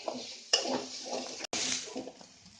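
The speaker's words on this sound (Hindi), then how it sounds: "अब हम कांदा इसमें डाल देंगे। कांदे को भी गोल्डन ब्राउन कर लेंगे।" Onions frying in a pan until golden brown, a steady close sizzle with a stir and a sharp clink near the start, alone without talk.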